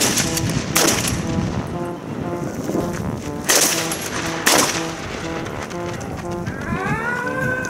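Close-range Lee-Enfield rifle shots ring out as three sharp, loud cracks at irregular intervals, each with a short echoing tail, with a tonal whine rising near the end.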